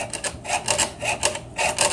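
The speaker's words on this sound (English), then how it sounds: "I'm going to saw straight up and down." A hand saw cuts through metal with quick, steady back-and-forth strokes, each one a close, rasping scrape repeating about twice a second with no talking.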